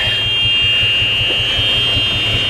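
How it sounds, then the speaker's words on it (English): A golf cart's steady high-pitched electronic backup alarm beeps continuously over its low rumbling idle engine. "which of course sets up the backup alarm."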